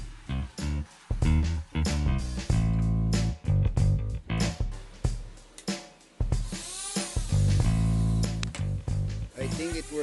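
A power sander fitted with a repaired Velcro backing pad runs in short bursts, starting and stopping repeatedly with a whirring drone that rises and falls, close and fairly loud.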